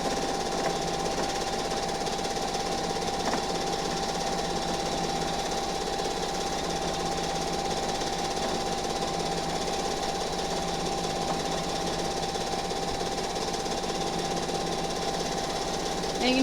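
A sewing machine quilts a large quilt, running in a continuous, fast, steady mechanical drone from start to finish at a fairly even level.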